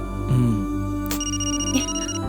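A mobile phone ringtone plays a steady electronic melody of sustained tones, close and clear, for about two seconds with no speech.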